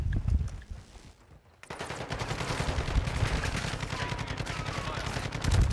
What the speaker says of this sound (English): That's just a machine gun.